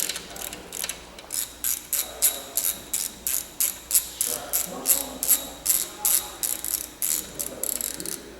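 A hand ratchet loosening a bolt on an engine's valve lifter guide, a quick run of regular clicking bursts about twice per second, close and crisp, with brief pauses.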